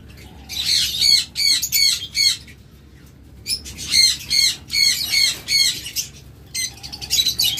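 A breeding pair of violet opaline birds with masking calls in repeated bursts of squawking, chattering notes. The bursts are loud and close, broken by brief pauses, with some wing flutter between them.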